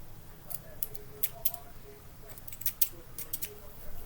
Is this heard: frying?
no